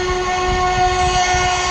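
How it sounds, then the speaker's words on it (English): A steady, sustained whistle from the Dread 46 locomotive holds several strong tonal lines over low rail rumble, with no talk throughout. "When you hear that whistle blowing through the distance"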